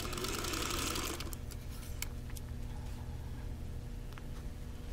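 A sewing machine runs close up while piecing a quilt block seam from a laser-cut Wheel of Mystery kit, a fast whirring stitch burst at the start, then quieter motor hum with light clicks.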